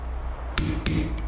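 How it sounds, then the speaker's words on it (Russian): Three sharp hammer strikes knock out material during house wiring work, arriving close and loud over a low background rumble. "можно просто молотком бить"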